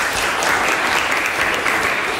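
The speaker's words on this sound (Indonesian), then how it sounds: "tepuk tangan untuk teman-teman kalian yang sudah menjawab" Students in a classroom applaud classmates who answered, a brief burst of steady, dense clapping that cuts off abruptly at the end.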